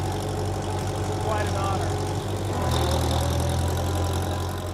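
Many tractor engines idle and rumble in a steady low drone on the Mackinac Bridge during a mass crossing of nearly 1,400 tractors, with a brief spoken remark over the continuous engine noise.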